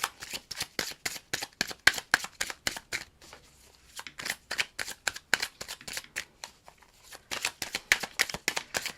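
Coated tarot cards are shuffled by hand, with rapid rhythmic riffling bursts, a brief quieter pause, then more riffling, close and crisp with no talk.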